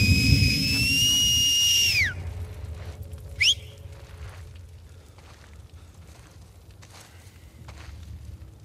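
Enemy signal whistles in the video game The Last of Us Part II: a long, loud, sustained whistle ending in a downward slide, then a short sharp rising whistle, followed by quieter distant whistles over a low ambient rumble.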